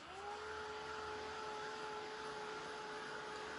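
A hair dryer drying paint on a handmade craft runs as one steady, close whine with an airy rush underneath. It holds unbroken for the whole stretch with no other sounds.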